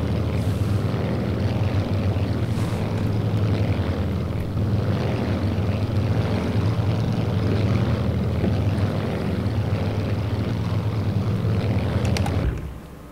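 A propeller aircraft engine in cruise in the Strike Fighters 2: Vietnam flight game makes a steady, loud droning hum that holds constant throughout, then cuts off abruptly at the end.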